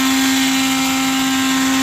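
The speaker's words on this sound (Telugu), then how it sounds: "మిక్సీ అయితే పట్టుకోవాలన్నమాట పౌడర్ వాటర్ వేయొద్దు ఓన్లీ పౌడర్ లాగానే పట్టుకోవాలి" A mixer grinder whirs loudly and steadily as it grinds roasted urad dal into a dry powder for a bitter gourd masala fry, a continuous motor hum with no pauses.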